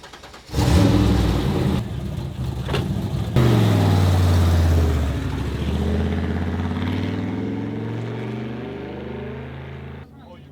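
A drag car engine runs out on a road course, loud and close, with a rising revving tone that sweeps upward and then settles into a steady drone before cutting off near the end.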